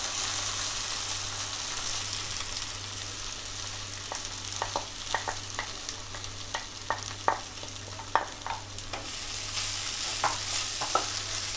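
Sago pearls fry in oil and ghee for sabudana khichdi, a steady low sizzle with a faint hum beneath and sharp clicks and pops of stirring growing busier midway.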